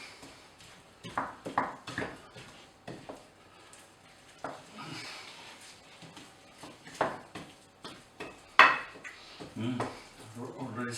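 Bread dough with pumpkin seeds is worked in a bowl, giving soft scraping, squishing and light clinking knocks at an uneven rhythm, close and fairly quiet, mixed with faint background sounds.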